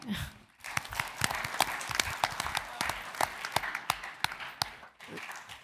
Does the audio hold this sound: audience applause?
yes